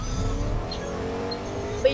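A car driving in the Fortnite video game, a steady low engine drone across the whole stretch with a faint tire squeal, a brief higher tone near the end, and some talk over it.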